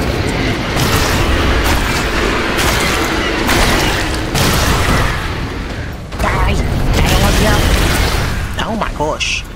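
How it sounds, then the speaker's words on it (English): Loud, dense game gunfire and booming blasts from Century: Age of Ashes, a dragon battle game, roll on almost without pause, with bursts of rapid shots, heavy impacts and a few pauses, and a voice talks over the din. "Who's shooting at me so badly?"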